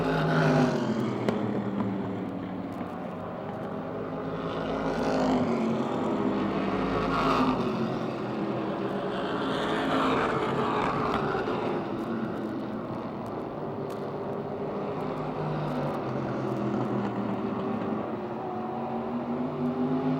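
Wyotech Modified race cars racing at Motordrome Speedway, a continuous drone of engines that swells and fades as cars pass, heard from the stands at middle distance, with no talk.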